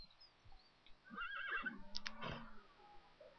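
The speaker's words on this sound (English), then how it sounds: "I think those are wild horses." Wild horses whinny in The Sims 3, a couple of shrill, quavering neighs mid-distance over quiet ambience, with faint hoof clops underneath.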